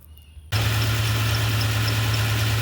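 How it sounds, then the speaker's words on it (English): A car engine fires up after a passenger-side valve cover gasket replacement, a sudden start from quiet into a loud, steady idle with a low hum and faint ticking, close up. "I got it running so I can look for any kind of oil leaks"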